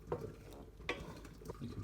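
A spoon stirring cream into a peppercorn pan sauce for pork chops: soft scraping and swishing strokes against the pan, a few distinct stirs, quiet and close with no talking.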